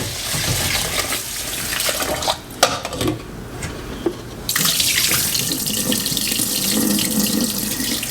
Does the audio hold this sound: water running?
yes